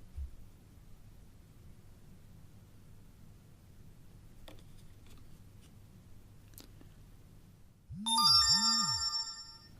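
An SMS notification chime sounds on a Beontel F1 phone, a short bright melodic tone lasting about a second and a half near the end, clear and close after quiet room background.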